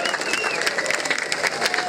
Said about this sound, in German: ich bitte mal, die Münchner ihre Hände zu erheben und um einen kräftigen Applaus für alle Aktivisten aus